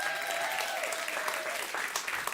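Audience applause breaks out for a co-founder at a talk on food as medicine, steady dense clapping filling the room from start to finish with no voices over it.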